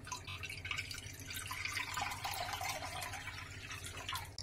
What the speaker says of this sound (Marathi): ह्याच्यामध्ये पाणी घालायचं